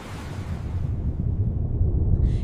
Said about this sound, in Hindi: लायरा लहरों से लड़ी।